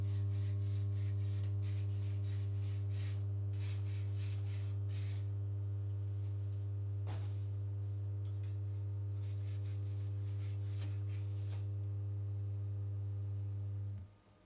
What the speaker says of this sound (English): The bigger microwave oven transformer will now melt 4 welding rods, which it eventually does